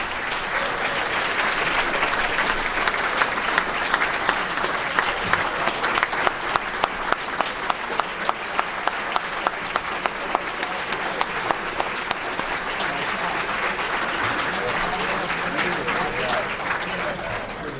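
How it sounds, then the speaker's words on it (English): A big round of applause for the 2012 Hamilton City Schools Athletic Hall of Fame inductees fills the hall, a loud sustained crowd ovation with a rhythmic run of distinct nearby claps in the middle and faint crowd murmur. "give them a big round of applause"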